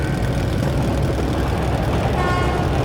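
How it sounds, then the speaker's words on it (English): A loud, sustained low train horn in the video game Metro Last Light drones steadily under heavy rumbling machinery noise, close and continuous with no voices. "That's the train!"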